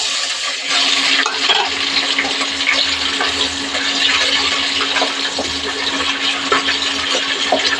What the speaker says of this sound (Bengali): মাছগুলি ভাজা করে নেব